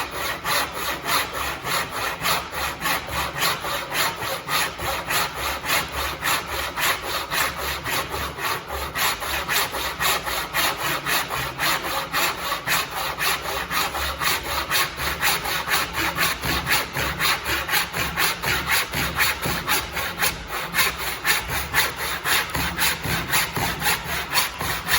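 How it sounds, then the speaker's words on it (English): A hand saw cuts through timber in a long, steady run of rhythmic back-and-forth rasping strokes, close and loud, with no voices. "It's so I can continue to see the line to make sure I'm not cutting on a weird angle."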